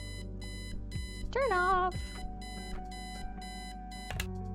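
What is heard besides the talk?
alarm clock beeping in the video game Kathy Rain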